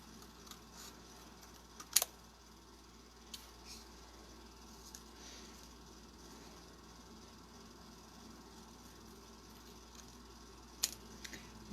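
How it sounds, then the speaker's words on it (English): Quiet, sparse snips of scissors cutting paper, a few crisp clicks spread out against faint room noise. "now I'm going to take a pair of scissors, cut very close to the words"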